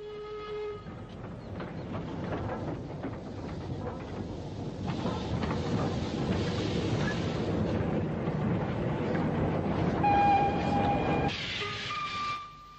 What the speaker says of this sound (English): Two generations of heavy goods locomotives, a 7F080 and an 8F280, double head of freight out of the Midland Yard at Walsall.